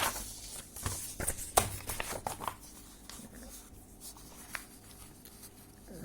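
Chalk or marker strokes on a board during a differential equations maths lecture, a run of short scratchy bursts early on that thin out into quieter scattered taps, with no talking.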